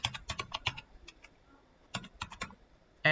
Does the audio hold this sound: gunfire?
no